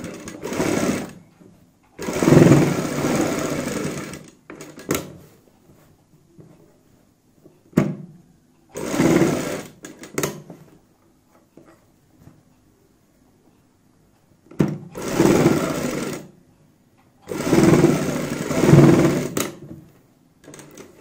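Sewing machine stitching a neck design on fabric, running in several loud bursts of rapid mechanical whirring separated by quiet pauses and brief clicks.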